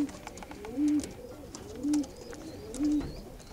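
A cock pigeon in a kit cage coos three times, each a low, rounded call spaced about a second apart, close and clear over a faint background of rustling and distant chirps.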